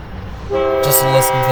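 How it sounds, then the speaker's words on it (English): Horn of an old Portland Western mixed freight train with an EMD locomotive sounds loud and sustained after a quieter start, holding a steady chord for about a second. "Honking the horn."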